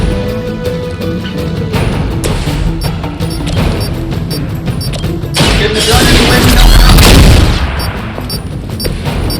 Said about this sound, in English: Another of the crates is armed to detonate